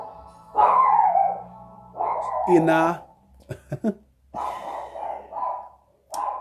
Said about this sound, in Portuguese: é o meu cachorrinho